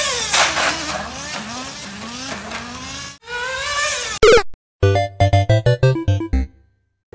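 A Traxxas Nitro Slash RC truck with a TRX 3.3 nitro engine screams at full throttle, its high buzzing whine rising and falling through fast revs, then cutting into a choppy series of short, sharp bursts.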